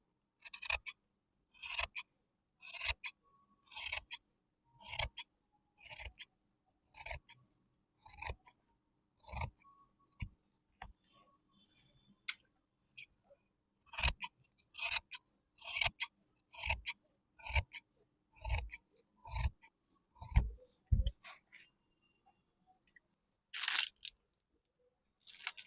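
Scissors snipping through fabric to cut 5-inch strips for a petticoat, crisp close cuts in rhythmic clusters with brief pauses, over near silence.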